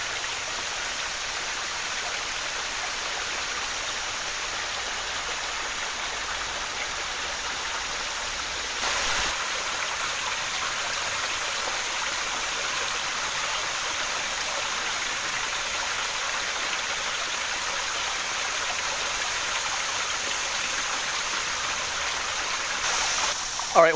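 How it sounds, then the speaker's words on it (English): A small waterfall tumbles in a side stream along a wooded nature trail, producing a steady, broadband rushing splash that runs unbroken and fairly close throughout, with a slight step up in loudness partway through. "Little baby waterfall."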